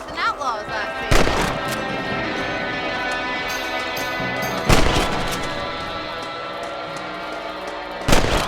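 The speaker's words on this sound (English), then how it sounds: "Better at shooting rabbits than outlaws, I see." Rifle shots in the Red Dead Redemption video game: three sharp, loud reports spaced a few seconds apart over a steady background of game music and ambience.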